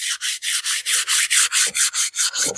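Metal is sanded by hand with a finer abrasive in rapid, even back-and-forth strokes, about four per second, a close, loud rasping hiss with no speech.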